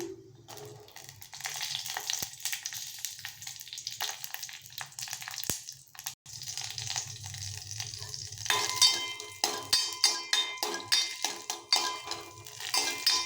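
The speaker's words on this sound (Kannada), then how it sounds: "ಎಣ್ಣೆಗೆ ಹಾಕ್ಕೊಳ್ತೀನಿ ಇವಾಗ ಹಸಿಮೆಣ್ಸಿನ್ಕಾಯಿ ಹಾಕ್ತಾ ಇದ್ದೀನಿ" Green chillies frying in hot oil with cumin and mustard seeds for a Kannada basale leaf tambuli: a steady close sizzle with stirring, then rhythmic scraping strokes of a spoon against the pan, no talk.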